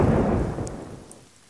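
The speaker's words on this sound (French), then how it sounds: "Quel orage! On sent l'électricité dans l'air." A thunderstorm with rain: a broad, loud rumble of thunder over a steady rain hiss, fading gradually across the short stretch with no voices.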